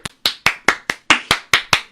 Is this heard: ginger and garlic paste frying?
no